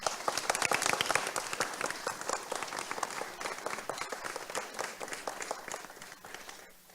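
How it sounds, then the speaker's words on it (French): Audience applause at a social innovation hackathon, dense and sustained clapping from a crowd that fades slightly toward the end, with no talk. "Alors pourquoi un tonnerre d'applaudissements?"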